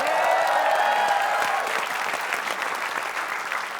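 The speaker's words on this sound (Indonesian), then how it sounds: "Tepuk tangan dong." A studio audience at an Indonesian TV game show claps in a dense, loud burst that gradually eases off over a few seconds.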